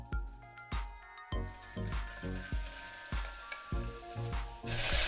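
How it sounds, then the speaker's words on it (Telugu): Onion pieces sizzling in a pan with whole spices such as star anise, fennel and shahi jeera for kuska rice, close and clear, with rhythmic spoon strokes and clinks as the mix is stirred, alone without talk. "తర్వాత దీంట్లో ఉల్లిపాయ ముక్కలు వేసుకోవాలి."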